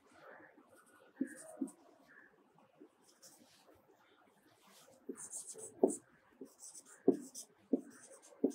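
A pen scratches across paper while a circuit diagram is drawn, with soft intermittent strokes and a few sharper taps close by in a quiet room.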